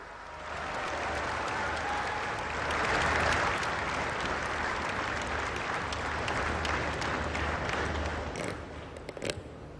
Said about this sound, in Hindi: आइए जोरदार तालियों के साथ आमंत्रित करते हैं